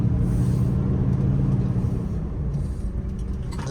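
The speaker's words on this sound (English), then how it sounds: "he's actually going to drive it in reverse all the way down the road" A car backing down a road in reverse gives a loud, steady low engine rumble with a faint high whine, close by and without speech.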